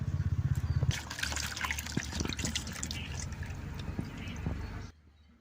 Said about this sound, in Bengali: আঙ্গুরটা পরিষ্কার করে দিয়ে নেব।